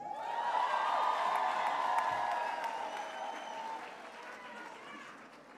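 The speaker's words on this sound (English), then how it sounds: "Let's give her a round of applause." Crowd at a university graduation ceremony in Pretoria applauds a doctoral candidate, sustained clapping mixed with loud, high wavering ululation and cheering that slowly tapers off.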